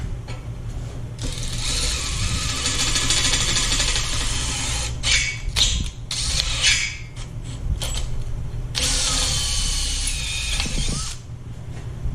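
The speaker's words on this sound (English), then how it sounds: "so I can drill new holes that it matches with the S10 frame" Power drill boring holes through bed brackets for mounting to a Chevrolet S10 frame on a 1942 Chevrolet rat rod build, a loud sustained whine with brief stops and bursts of grinding, close up, no talking.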